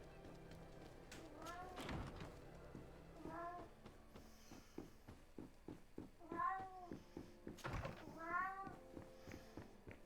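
A cat in the video game GreedFall meows several times, short rising-falling calls spaced a couple of seconds apart, mixed with soft thumps and game sounds while someone talks.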